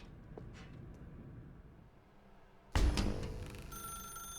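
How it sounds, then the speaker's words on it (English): In The Stanley Parable: Ultra Deluxe, a telephone suddenly starts ringing loudly and close after a quiet, murky room tone, its bright trilling ring continuing to the end. "Now pick up the phone."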